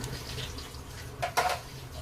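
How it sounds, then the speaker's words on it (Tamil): Water poured from a vessel into a pan of broad beans on the stove, a brief splashing pour rising near the end, with quiet kitchen background noise and no talk. "இந்த மாதிரி லைட்டா அந்த அவரைக்காய் உள்ள முங்குற அளவுக்கு ஊத்தினா போதுங்க"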